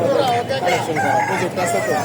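A rooster crows loudly in a long, wavering call at a village poultry market, with crowd murmur and other fowl in the background.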